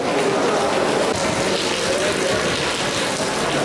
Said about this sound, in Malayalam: ഭയങ്കരമായിട്ട് മഴയും കാറ്റൊക്കെ അടിച്ചിട്ട് ഞാൻ ഫുള്ള് നനഞ്ഞിട്ട് നിൽക്കുവാണ്